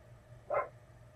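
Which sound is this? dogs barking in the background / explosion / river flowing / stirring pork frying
dogs barking in the background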